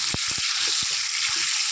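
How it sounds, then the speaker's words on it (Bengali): Potatoes frying in hot oil in a home kitchen, a constant close hiss with scattered faint pops and a few soft stirring knocks. "আলুগুলো একটু লাল লাল করে ভেজে নেবো"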